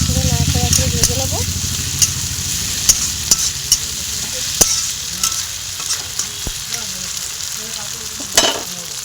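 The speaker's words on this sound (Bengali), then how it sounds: "টমেটো কুচিটা দিয়ে পুরো নাড়াচাড়া করে ভেজে নেব" Chopped tomatoes stir-fried in a pan for a chicken dish, with a steady sizzle, a low engine-like hum underneath, and sharp spatula clicks against the pan at irregular intervals, up close.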